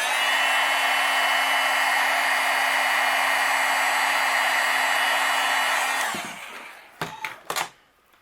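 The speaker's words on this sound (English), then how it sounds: "And then I'll take my heat gun and we'll melt it." A heat gun blows with a loud, steady whine and roar for about six seconds while melting white embossing powder on a Christmas card, then shuts off, followed by a few faint knocks.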